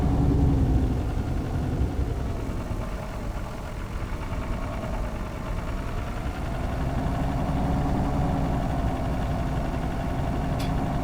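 A heavy tractor engine idles steadily, a deep continuous rumble with faint vibration that holds at an even level throughout.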